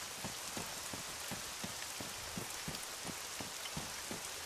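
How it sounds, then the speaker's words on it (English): Heavy rain in the video game Arma 3, a dense steady hiss of downpour with regular soft thumps beneath, constant and fairly faint, no voices. "Man, this rain is fucking heavy."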